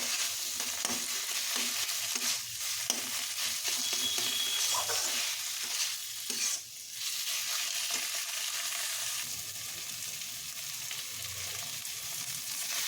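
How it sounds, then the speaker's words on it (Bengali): Boiled pumpkin is stirred and mashed in a frying pan, with a soft, steady sizzle and intermittent scraping and stirring strokes, close and fairly quiet. "এবার একটু নাড়াচাড়া করে করে আমি একদম কুমড়োটা ম্যাশ করে নেব"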